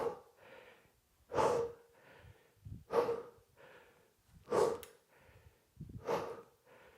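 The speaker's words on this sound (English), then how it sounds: "I'm breathing heavy" Heavy, rhythmic breathing comes from someone doing dumbbell swings at home, with loud sharp exhales every second and a half or so and softer inhales between them, close to the microphone and with no talking.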